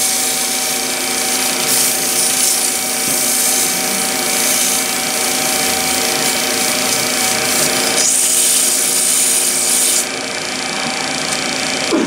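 Turning tool held against a closed-form wooden vessel spinning on a lathe, making a continuous, even rubbing and scraping hum over the steady motor drone, loud and close for the full length.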